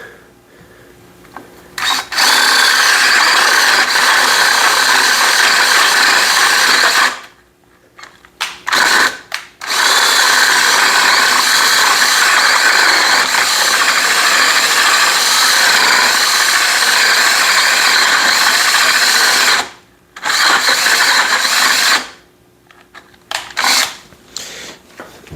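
A cordless drill with a Forstner hole auger bit grinds steadily through wood in two long runs, separated by brief pauses and clicks, loud and close.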